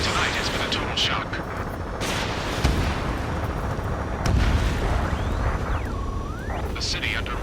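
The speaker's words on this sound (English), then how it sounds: "Gunfire and the roar of jets echoing." Gunfire booms and jet roars fill a city under martial law in the video game Ace Combat 7: Skies Unknown, with heavy rumbling blasts, sharp reports and whooshing passes, loud throughout, while voices talk over the din.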